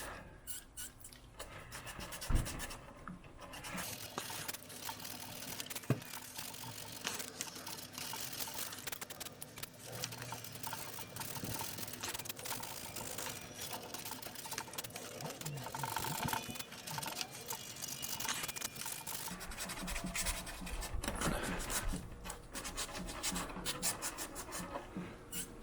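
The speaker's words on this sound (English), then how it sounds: "As you can see, I sand here. My scratch is kind of starting to go away." Wet sanding on a Scout Carbon paramotor's carbon surface with sandpaper and water, giving a steady, close rasping scrub that continues throughout with no pauses and holds an even level.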